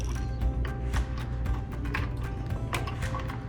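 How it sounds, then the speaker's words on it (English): Plastic rivets holding a PPU circuit board in an LX panel are popped out, giving steady close mechanical clicking and ratcheting over a low hum. "the next step will be removing the plastic rivets holding the main PPU board in place"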